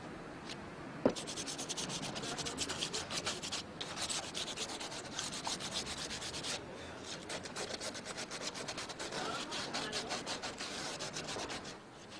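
A hacksaw cuts through PVC sewer pipe, a steady rasping scrape of rapid back-and-forth strokes that runs continuously and fairly close, with no talking.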